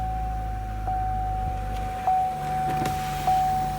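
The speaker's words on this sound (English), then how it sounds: "Windows work." Power windows on a salvage-auction car whir up and down in short motor runs inside the cabin, with a repeating warning chime beeping over a low engine idle.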